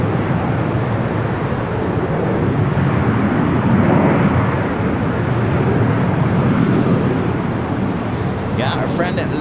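A JetBlue Airbus A321 bound for Newark roars steadily as it takes off from LAX on the north side, a loud continuous broadband engine rush, with a voice talking over it.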